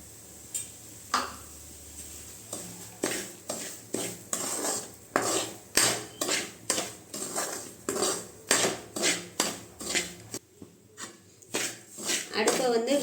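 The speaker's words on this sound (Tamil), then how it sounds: "அதை வந்து இந்த நெய்யிலே போட்டு வறுத்து எடுத்துக்கலாம்" One cup of semolina roasts in ghee in a pan while a spoon stirs it, giving a steady run of rhythmic scraping clinks against the metal, close and fairly loud, with brief pauses between strokes.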